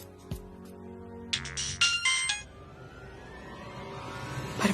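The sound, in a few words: phone ringing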